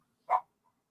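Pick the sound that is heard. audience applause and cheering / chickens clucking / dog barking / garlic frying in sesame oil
dog barking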